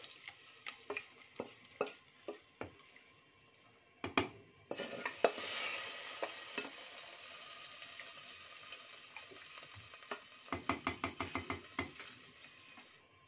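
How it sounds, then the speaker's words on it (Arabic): Fried garlic topping is poured onto cooking taro in a pot, giving a sudden loud sizzle and hiss with spoon clatter and stirring scrapes around it, close by and without talk. "هننزل على القلقاس بالطشه بتاعه"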